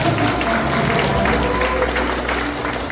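An audience claps at the opening of a photography exhibition marking a daily newspaper's 80th anniversary, held in a Daegu arts center gallery. Steady, dense applause fills the room, with crowd murmur and a voice over it.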